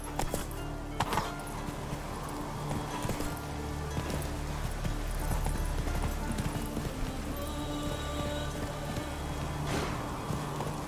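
Roach the horse galloping in The Witcher 3, rhythmic hoofbeats pounding steadily with occasional snorts over a low ambient game backdrop.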